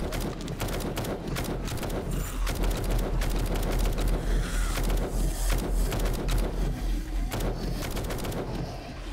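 Heavy weapon fire from a big gun in the zombie survival game 7 Days to Die during a horde night, a dense, continuous barrage of loud shots and impacts running steadily through the whole stretch.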